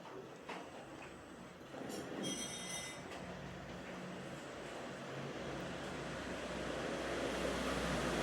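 Onions frying in a pan for Schezwan noodles, a steady dense hiss of sizzling oil, close and continuous with a few clinks at the start, no talk.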